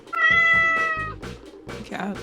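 Loud, strained cat meows and yowls ring out in a few drawn-out cries, close and harmonic, with people talking around and between them.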